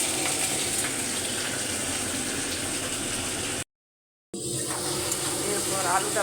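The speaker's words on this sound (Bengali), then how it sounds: "বাটা মাছটা ভেজে নিচ্ছি" Bata fish frying in hot oil gives a steady, close sizzle and crackle, broken by a brief complete silence partway through, then continuing.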